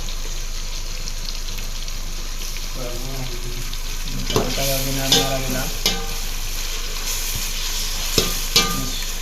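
Chicken frying with ginger, onion, garlic and spices is stirred in a hot pan, a loud continuous sizzle with a brief murmur of background voice and several sharp scraping strokes of the spoon in the second half.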